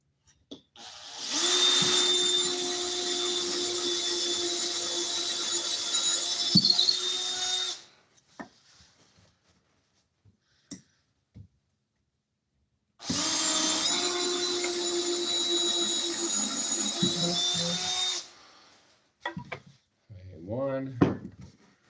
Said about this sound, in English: Spin this around so I'm not drilling to my bench.